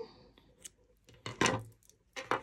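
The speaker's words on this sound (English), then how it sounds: "now at this point you can cut your yarn" Scissors snip through yarn while finishing a crocheted 3D flower granny square, a few close, crisp cuts in quick succession against a quiet room.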